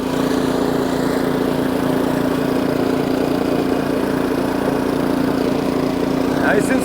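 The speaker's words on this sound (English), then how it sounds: "Let's put this baby through a test run and get it through its gears. Here we go, gear 1." An Ariens snowblower engine runs steadily in first gear, a constant loud mechanical drone with a strong low hum that holds unbroken throughout, with no talk over it.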